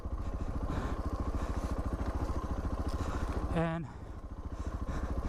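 Suzuki DR650 motorcycle riding through desert bushes, its single-cylinder engine thumping in a steady rapid pulse close by throughout, with a brief dip and a short wind-like burst, under a man's speech.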